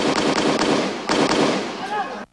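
A second allied PNP-SAF commando answers with coded gunfire during a firefight: loud, fast volleys of close shots in two bursts, with a brief voice near the end.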